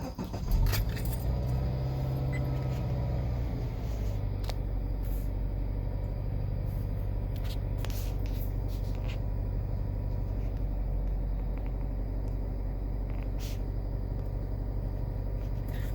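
A Subaru Forester XT engine cranks and catches during a CVT relearn, then settles into a steady low idle that rumbles on, with occasional faint clicks and rattles.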